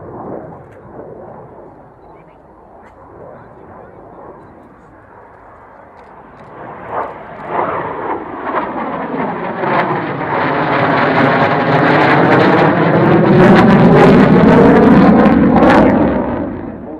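A silver Saab Viggen jet at a flying display roars in from a distance, its engine noise swelling into a loud, sustained rumbling pass with a rising whine before easing slightly at the end.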